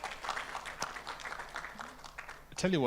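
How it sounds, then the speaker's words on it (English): Conference audience at an East Africa data governance event applauding, a scattered clapping texture running under continuous speech and rising near the end. "Give me a round of applause."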